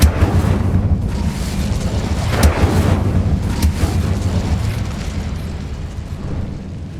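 Incendio fire spell cast in Hogwarts Legacy: a loud, roaring whoosh of flame with deep rumbling and crackling bursts, sustained throughout, with no talking.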